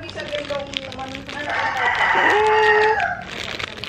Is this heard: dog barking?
no